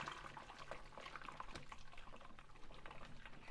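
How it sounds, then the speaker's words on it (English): A large pan of cooked spinach and water is poured into a colander, making a steady, gushing splash of liquid that carries on without a break. The sound is faint and fairly distant, with no speech. "I'm going to just pour it into the colander."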